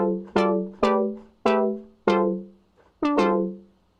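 A remixed song played back, with bright plucked or mallet-like tones striking in a slow rhythmic pattern, each note ringing and fading before the next, with no voices.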